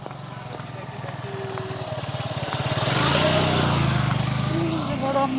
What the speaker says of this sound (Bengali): বড় আম্মু বাইকে আসতেছে বড় আব্বুর সাথে